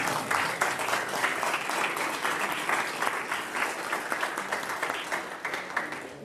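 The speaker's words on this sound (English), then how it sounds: "Let's give one more round of applause." Sustained applause from a sizable crowd at a naturalization ceremony in Putnam County, New York, steady and loud throughout with dense overlapping claps.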